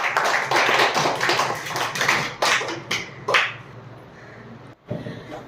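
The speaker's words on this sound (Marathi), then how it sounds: "रुचीसाठी जोरात टाळ्या" A burst of clapping from a group of people, loud and close for about three seconds, then thinning to a few scattered claps, given as applause for a child named Ruchi.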